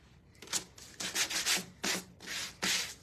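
A wooden chair is sanded by hand in quick, rough strokes, about seven rasping passes with short gaps between them, close by.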